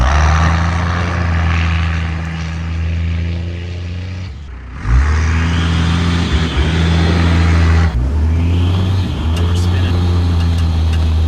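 A 1993 Dodge W350 pickup with a 12-valve Cummins diesel launches from a stop, the engine droning low, dipping briefly, then surging loud as it accelerates, heard from inside the cab.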